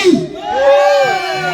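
Crowd of people at an outdoor camping festival shouting a team cheer in unison on cue, a loud sustained group yell with some children's voices, close and lively.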